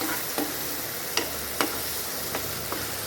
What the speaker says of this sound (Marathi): जिरेपूड धनेपूड असं आपण अर्धा अर्धा चमचा घालून घ्यायचं वाटलेलं मिश्रण सगळं त्यामध्ये आपण भाजून घेऊया